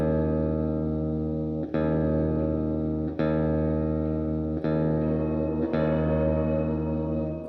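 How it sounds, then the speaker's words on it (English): Gamechanger Audio pedal in harmonic mode giving a shimmer-reverb-like guitar tone: dense, sustained, bright chords that swell continuously, with four soft transitions as the sound shifts, loud and alone. "The way they describe it is it's like a shimmer reverb."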